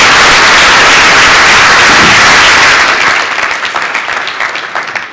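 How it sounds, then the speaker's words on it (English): A conference audience applauds a panel with a dense burst of clapping that holds strong for a few seconds, then thins out and fades as individual claps trail off. "I'd like to give this panel a big round of applause."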